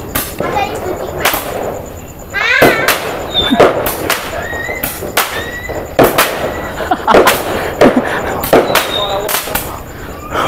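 Sharp cracking bangs go off in quick, irregular bursts, some close and loud, others farther away, with voices talking in the background.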